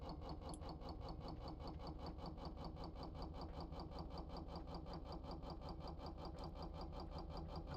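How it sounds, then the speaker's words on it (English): A modular engine in the Stormworks video game runs at a constant idle, with an even, rapid mechanical pulsing that repeats unchanged throughout, quiet and without talk. "I put in a modular engine."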